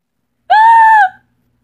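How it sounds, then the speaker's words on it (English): A single loud, high-pitched scream rings out alone for about half a second, rising sharply and then fading, in a cartoon scene. "I just heard somebody screaming."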